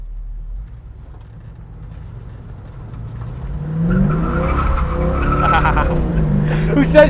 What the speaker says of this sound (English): It's sitting here idling at 600 RPM.